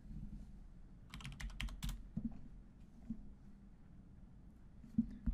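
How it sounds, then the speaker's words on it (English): Keys clatter on a computer keyboard as a short command is entered in a Teams chat bot, a quick run of soft clicks over a low steady room hum, followed by a few scattered faint taps. "we'll type help."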